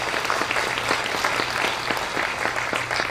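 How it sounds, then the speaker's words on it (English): Sustained audience applause at an industrial procurement networking breakfast, a dense steady wash of many hands clapping with no break for the full stretch. "Everybody give Dana a big round of applause"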